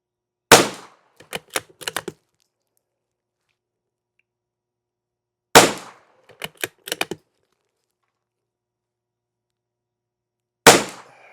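A rifle fires CCI SV ammunition lubed with Fin Grease: three sharp single shots spaced about five seconds apart, each followed by a quick series of mechanical clicks, in otherwise quiet surroundings.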